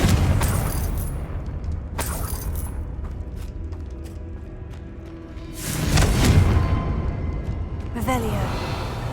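A Confringo fire spell blasts in Hogwarts Legacy, a heavy booming burst with a rushing tail, ringing out inside a tomb with an altar and sarcophagus, alongside several other thumps and bursts across the game's ambient rumble.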